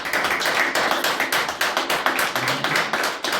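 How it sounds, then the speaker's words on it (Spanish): Congregation in a church service claps in an offering of applause, dense overlapping hand claps with a quick irregular rhythm, fairly close and continuous for a few seconds. "una fuerte ofrenda de palmas a nuestro Señor"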